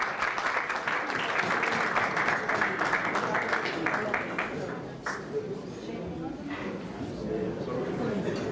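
A hall audience at a rabbi's talk claps in a dense, lively round that is loud at first and then tapers to scattered claps, with faint crowd murmur underneath.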